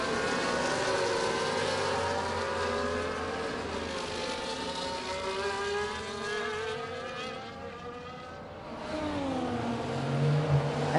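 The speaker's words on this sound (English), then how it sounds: "There are still some cars into the pits like Dylan and PC Willie." Racing cars hold a steady engine whine around a Las Vegas circuit, with several cars audible together and a pitch that rises and falls as they pass. One car fades briefly before the engines build again.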